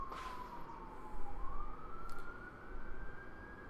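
An emergency siren wails and sweeps in pitch at a moderate distance, steady over a constant background rumble, with no voices.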